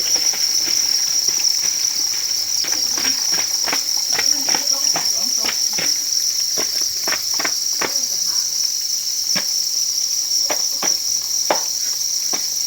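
A dense field of crickets in rural Surin, Thailand, chirps continuously while they are being caught for sale. A high, steady trill runs throughout, with scattered sharp rustles and taps from handling below it.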